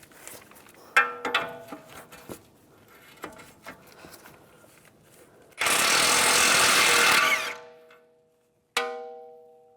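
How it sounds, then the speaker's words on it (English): A 22mm socket loosens a nut on the front inner tie rod of a 2004-2010 BMW X3, with scattered clanks and ratcheting, then a loud sustained power-tool whir of about two seconds and a final metallic clank. "Now I'm going to take a 22mm socket, take this nut off."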